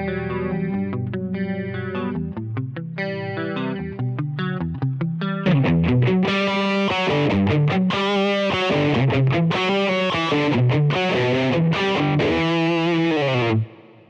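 Electric guitar played through a Boss GT-10 multi-effects unit's amp models, a cleaner picked passage giving way to a loud, sustained distorted section with chorus-like shimmer, played alone and close.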